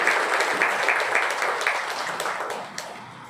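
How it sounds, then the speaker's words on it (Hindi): An audience at a business success-story event gives loud, sustained applause with crisp clapping that gradually thins and fades toward the end. "इनके लिए एक जोरदार तालियां"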